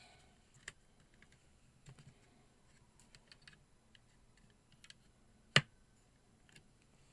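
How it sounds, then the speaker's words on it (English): A gift box punch board punches card, giving one sharp, loud click near the middle of a quiet stretch, with a few softer taps and handling clicks scattered before and after. "you line it up with the number 2 and you punch"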